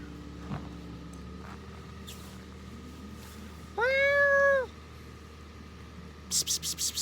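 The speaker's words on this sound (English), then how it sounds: "This onsen also has a lot of cats." A cat in a hot spring town gives one clear, drawn-out meow midway through, over low background hum and faint noises, with a few sharp clicking or tapping sounds near the end.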